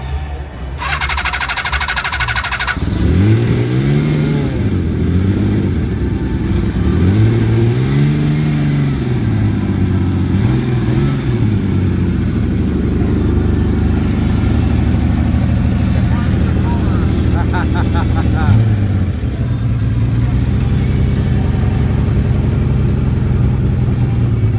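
Steady engine running and revving in repeated swells, loud and close, with voices talking over it at points; a brief high whine opens the clip before the engine note takes over.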